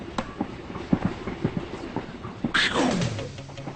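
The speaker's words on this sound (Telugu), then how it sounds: "నైట్ టైం రన్నింగ్ ట్రైన్, ఎదురెదురు బెర్తలు" A passenger train runs at night, heard from inside a sleeper coach as irregular rattling clicks and clacks, followed near the end by a louder whooshing tone that sweeps downward.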